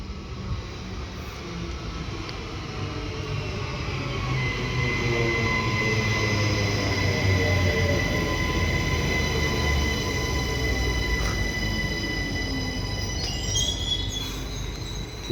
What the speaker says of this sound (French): Parlant de RER, il y en a un qui arrive.